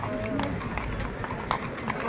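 Horse hooves clip-clop on a Madrid street during the Cristo de Medinaceli Easter procession, a steady close stepping rhythm under a continuous crowd murmur with voices talking nearby.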